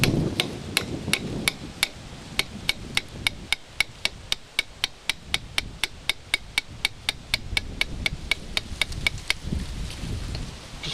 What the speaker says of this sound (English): if you want to get out these brake pads, you have to drive out these two pins that are here.